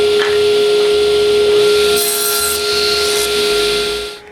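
Wood boards are cut to size with a power saw, giving a loud, steady, close, rasping whir with a constant tone that shifts slightly as the blade moves through the stock, then tails off at the end.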